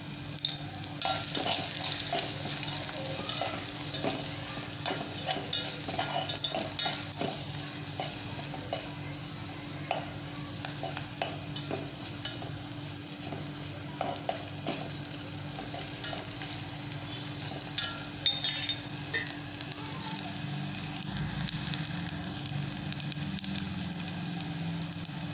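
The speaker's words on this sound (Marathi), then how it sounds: "हे पहा, आपली फोडणी मस्त तयार झालेली आहे" Spices for buttermilk tempering, with turmeric and salt, crackle and sizzle in hot oil in a pan: a steady low frying hiss with scattered small pops and stirring clatter, fairly quiet, no talk.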